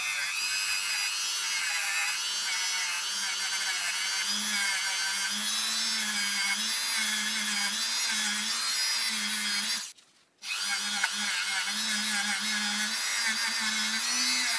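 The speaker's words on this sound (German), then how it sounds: "Daher einmal den kleinen Gradschleifer ausgepackt und mit einer Stahlbürste die Kontakte rundum gereinigt." Small die grinder spinning a 19 mm steel wire brush against rusty battery contacts of an Exost Pixie RC car, giving a steady close high whine with a faint wavering tone. It cuts out briefly near the end and then resumes.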